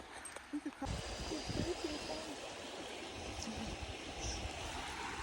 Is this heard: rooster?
no